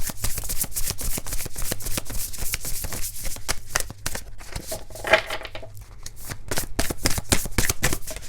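Oracle cards are shuffled by hand in a steady run of quick, papery riffles and slaps lasting several seconds, close and fairly loud with no talking.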